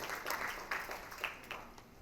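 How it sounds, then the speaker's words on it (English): Applause from a conference audience at an Internet2 event in Dubai, a faint, steady patter of many hands clapping for about two seconds with scattered sharper claps, no talking over it. "All of you please give a big round of applause to Swapnil Joshi."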